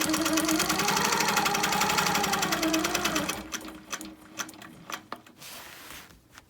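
A sewing machine stitches a wholecloth quilt with a fast, steady mechanical whir and needle clatter for about three seconds, then stops, leaving quieter clicks and handling sounds.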